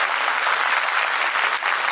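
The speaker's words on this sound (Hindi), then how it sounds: "एक तो यार पहले इसके लिए ताली बजा दो" Audience applause at a teaching seminar and meetup, a dense steady burst of many hands clapping together, loud and close throughout with no talk over it.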